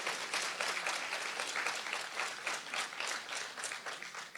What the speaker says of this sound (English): I think we can clap a little louder